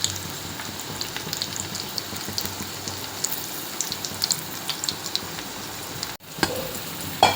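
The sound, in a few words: bhajji fritters frying in hot oil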